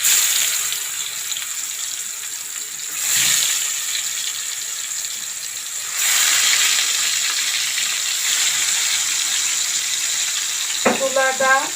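Hilsa fish fry in hot oil in a pan with lightly fried onion. A steady sizzling hiss swells at a few points, and a short clatter of utensils comes near the end.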